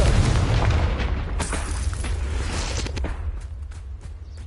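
A Confringo fire spell explosion in the Hogwarts Legacy video game, a loud deep boom at the start that rumbles and slowly fades over several seconds.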